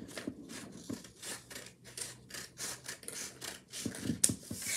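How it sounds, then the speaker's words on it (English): Scissors snip through paper for an origami piano, a rapid series of about a dozen crisp, close cuts with soft rustling between strokes. "So I'm just gonna cut this out."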